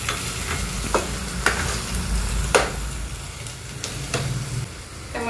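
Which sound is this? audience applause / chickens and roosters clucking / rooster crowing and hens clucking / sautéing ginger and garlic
sautéing ginger and garlic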